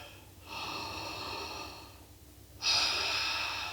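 Slow, audible breaths during yoga practice, a long soft exhale followed by a stronger breath a couple of seconds later, close and alone without speech.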